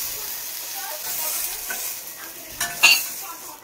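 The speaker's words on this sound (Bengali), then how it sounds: "এবার নিমটা ভাজবো" Neem leaves fry in a hot pan with a bright, steady sizzle, stirred with a utensil that gives a few short scrapes and clinks near the end.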